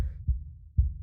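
Two deep, muffled heartbeat thumps pulse close and low in the video game Slay the Princess, evenly spaced about half a second apart, with no talk over them.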